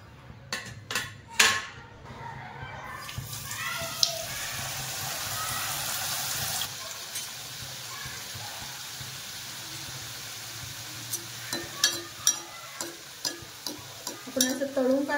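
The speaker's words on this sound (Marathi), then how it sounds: "आपण आता याच्यात स्प्रिंग रोल सोडूया।" Sweet potato spring rolls go into hot oil, bringing a sustained sizzle after a few sharp pan and utensil clatters, with scattered clinks and taps returning toward the end.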